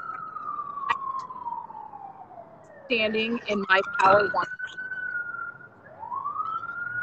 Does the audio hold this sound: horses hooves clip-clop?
no